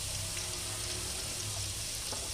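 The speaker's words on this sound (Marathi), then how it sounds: "या दुसऱ्या पॅनमध्ये आपण तेल घातलं आहे आपण जिरं घालून घेणार आहोत" Cumin seeds sizzling in hot oil in a second pan, a dense, even frying hiss that runs steadily and close with no talk over it.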